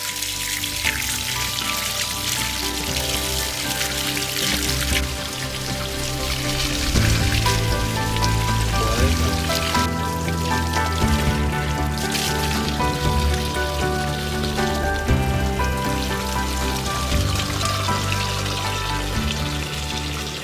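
Rain falls steadily in a loud, even wash of patter on surfaces, with faint tonal sounds underneath and no talking.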